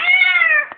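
A female cat lets out one long, loud meow with a steady harmonic tone that fades toward the end, then a brief softer noise follows.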